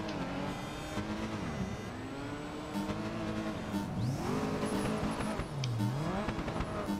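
Race car engine in the video game Project Gotham Racing 4, revving up and down through gear changes with a rising whine and a brief tire squeal, loud and continuous with no talk.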